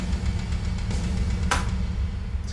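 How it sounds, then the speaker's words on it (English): EZDrummer2 metal drum kit sent through a big swooshy reverb, a dense washed-out rumble with one sharp bright hit in the middle and a long smeared tail, no voices. "because I like big swooshy reverbs"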